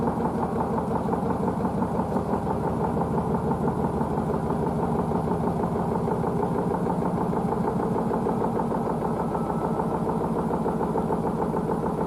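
A Blomberg WNF9448 washing machine turns its drum to balance the load before spinning, giving a steady mechanical hum with a fast rhythmic churning pulse that stays even and moderately quiet for about twelve seconds.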